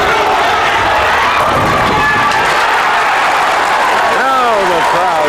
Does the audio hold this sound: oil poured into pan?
no